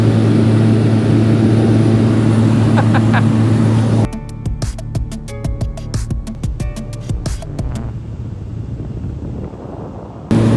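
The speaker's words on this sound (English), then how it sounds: "look at that helicopter there. Wow, woo, he's close." Steady engine drone for a few seconds, then a loud chopping, rhythmic clatter of helicopter rotor blades passing close overhead, with a whooshing rush of air.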